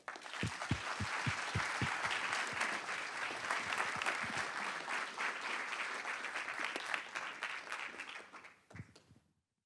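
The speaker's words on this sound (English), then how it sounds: "can I please have a huge round of applause for our Trinity teams?" Sustained applause from a crowd at a venture competition final round, with steady clapping and a few loud claps standing out, fading out at the end.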